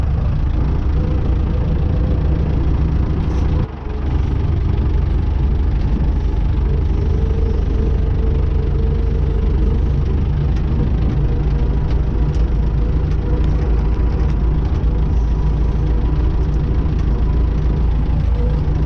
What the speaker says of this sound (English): I'm not used to driving up here in a tractor